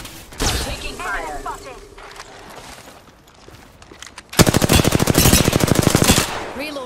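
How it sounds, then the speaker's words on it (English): Rapid automatic gunfire from the Apex Legends battle royale game, with scattered shots early on, then a loud sustained burst of fast repeated rounds, while a voice speaks between bursts. "They're shooting at me."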